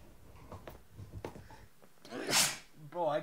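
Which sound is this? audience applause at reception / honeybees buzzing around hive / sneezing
sneezing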